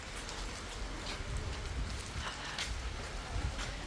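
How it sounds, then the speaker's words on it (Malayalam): Heavy rain pours down steadily outdoors in a village, a dense continuous hiss of drops on surfaces that stays even and moderately faint throughout, with no voices. "നല്ല മഴ പെയ്യുന്നുണ്ട്."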